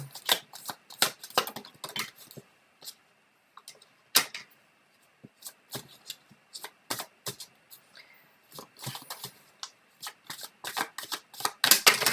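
Tarot cards are shuffled close by in repeated crisp riffles and slaps, coming in irregular bursts with brief gaps and growing busier toward the end.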